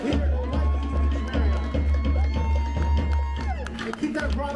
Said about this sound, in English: would you please give a nice round of applause for your wonderful wait staff this evening